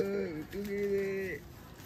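Pigeons on a rooftop in Tarn Taran Sahib, Punjab, give a close, clear run of soft, throaty coos: two drawn-out rolling notes, one after the other, over faint background hum.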